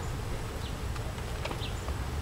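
A steady, dense buzzing of many honeybees in a hive, continuous and close, with a few faint higher chirps poking through.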